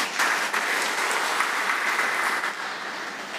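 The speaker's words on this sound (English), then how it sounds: "Let's give a round of applause" Applause from a church congregation at an All Saints' Sunday service fills the space, dense and even, slowly thinning toward the end.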